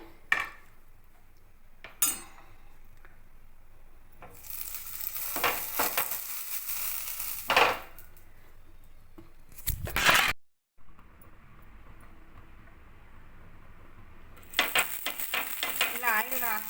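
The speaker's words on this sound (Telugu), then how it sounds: "ఉల్లిపాయలు వేసి బాగా కలుపుకోవాలి" Onions stirred through a pan with mint, ginger-garlic paste, cumin, coriander powder, salt and chili, a steady sizzle broken by scrapes and utensil clatter, with brief gaps and a quiet pause near the middle.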